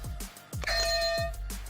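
A bright ringing bell used as a contestant's buzzer in a FIFA 22 esports quiz round, one clear ding with a lingering tone amid low thumping background noise.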